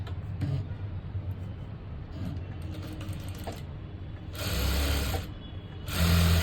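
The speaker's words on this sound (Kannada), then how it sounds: "ಪಟ್ಟಿ ಮಾಡಿಕೊಂಡು ನೀಟಾಗಿ ಈ ರೀತಿ ಸ್ಟಿಚ್ ಮಾಡ್ಕೊಂಬಿಡಿ" A sewing machine stitching a blouse, with a steady mechanical whir in short bursts, the motor rising louder twice near the end, heard close with no talking.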